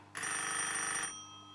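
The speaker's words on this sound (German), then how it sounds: "Wenn das Telefon so weiter klingelt" A telephone rings once in a single bright electronic burst of about one second, close and loud, then cuts off, with a low steady hum underneath and no talking.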